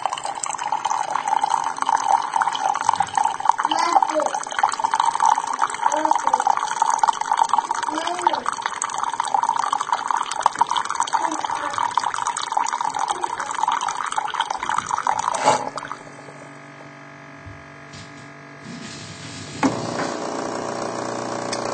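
A coffee brewer priming pours water into a cup, a steady trickling and splashing stream that stops abruptly partway through, leaving quieter machine hum and faint clicks afterward.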